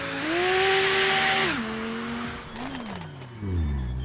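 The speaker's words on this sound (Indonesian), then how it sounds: "Berisik banget mobil ini kok." A loud video-game car engine drones and shifts pitch, revving up, dropping and climbing again, with a brief tire-squeal-like sweep partway through; no voices over it.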